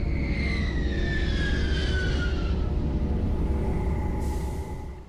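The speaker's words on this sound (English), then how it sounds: "Large ship incoming." A huge engine roar of the Normandy starship in Mass Effect rumbles in steadily, deep and loud, with a descending high whine sweeping through before the noise thins out at the end.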